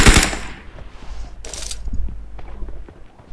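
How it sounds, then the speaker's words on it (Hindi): Mini14 rifle gunfire in PUBG, a loud close crack at the start, then another sharp shot and scattered fainter distant pops, with a brief echoing tail. "मिनी चल रहा है राइट में कहीं"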